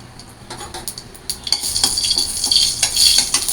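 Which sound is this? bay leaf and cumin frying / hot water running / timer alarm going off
bay leaf and cumin frying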